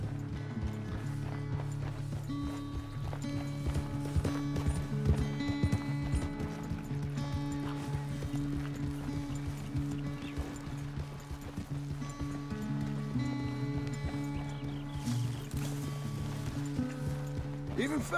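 Horse hooves galloping in Red Dead Redemption 2, a steady driving clip-clop running the whole way through beneath continuous game music, with a voice talking over it.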